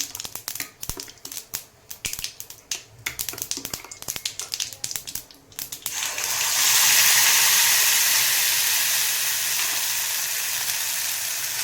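Irregular scraping and clinking of a spoon stirring, then a loud, steady sizzle of raw ground spice paste frying in a hot pan for kokum curry.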